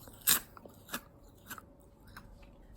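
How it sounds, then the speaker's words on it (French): Crisp vegan meringues made with chickpea water crunch under several bites: one loud close crack, then softer crunches spaced through a quiet room. "Écoutez comme ça croustille."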